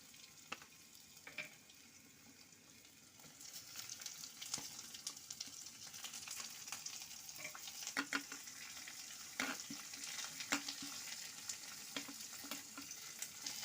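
Garlic stirred and fried in a pan, a faint continuous sizzle broken by repeated light scrapes and clicks of the spatula, close and without speech.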